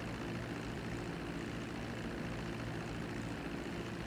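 A plane's propeller engine drones steadily at close range from inside the aircraft, a loud, even broadband roar with a low hum and no talk over it.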